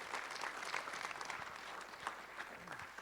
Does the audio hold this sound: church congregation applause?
yes